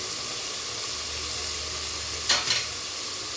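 Fish sautéing with green chilies in a pan for a spicy gourd and shrimp fish broth, giving a steady, close frying sizzle and hiss, with a brief stir or spatter near the end.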